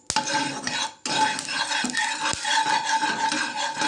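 Hot oil swirled around a metal pan, heard as a continuous dense scraping hiss with a couple of sharp clinks, close and fairly loud, no talking.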